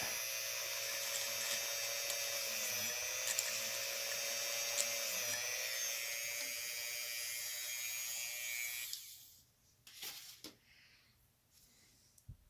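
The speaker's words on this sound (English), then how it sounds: "on low speed. And drill right through." A small rotary tool whines steadily at a low speed for several seconds, then cuts off, leaving a few faint knocks and handling sounds.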